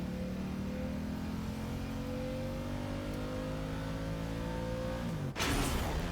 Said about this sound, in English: Rev the I engine.